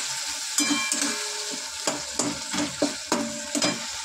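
Tomatoes with salt sauté in a pan while a spoon stirs them, a steady close sizzle of frying broken by repeated scraping and knocking strokes against the pan, with no talking.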